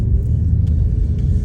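Low, steady engine rumble from a modified Ford Focus Sport styled as an RS/ST lookalike while it is driven, continuous and fairly loud with no voices.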